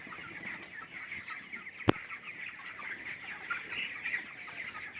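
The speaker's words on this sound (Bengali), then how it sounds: "এই মুরগি ফিড খাচ্ছে, কেউ কেউ জল খাচ্ছে।" Chickens on a poultry farm cluck softly and steadily while feeding and drinking, with one sharp close click partway through and no talking.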